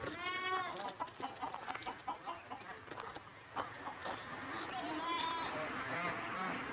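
Farmyard chickens let out of their coop cluck and squawk nearby in short, irregular bursts, with a voice talking among them.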